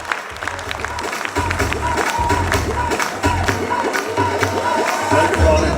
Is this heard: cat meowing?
no